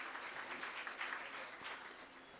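Audience at a 79th anniversary celebration applauding to welcome a sponsor, a steady, moderately distant wash of clapping with no talk over it.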